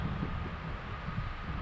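Wind gusts blow steadily across the microphone outdoors beside a river in Georgia in early spring, a continuous low rushing roar with no speech.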